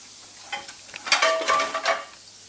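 Turkey meatballs brown in a pan with a soft sizzle. Quiet background hum is broken by a burst of spatter and stirring scrapes in the middle, and no one speaks.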